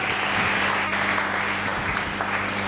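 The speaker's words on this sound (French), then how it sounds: "Acclamons très fort pour le roi des rois" Church congregation clapping hard in praise of the king of kings, a thick, even wash of applause from many hands over a steady low hum, sustained throughout.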